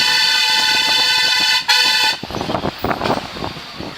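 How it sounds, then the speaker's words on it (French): A loud, steady vehicle horn blares close by for about two seconds on a rough mountain track on the Manaslu trek in Nepal, then cuts off, leaving rattling and rumbling road noise. "et pourtant il a klaxonné"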